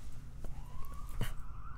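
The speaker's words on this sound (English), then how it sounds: "Is that a new siren? That is a new siren." Rising siren wail in a PSVR video game, a moderate tone sweeping upward over a low rumble with a few short knocks, no talking.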